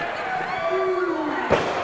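A wrestler drops from the top rope onto two opponents at a live independent wrestling show, one sharp heavy thud near the end following a rising tone, with the crowd murmuring underneath.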